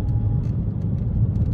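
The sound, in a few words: Ford Mondeo ST220 catless exhaust engine sound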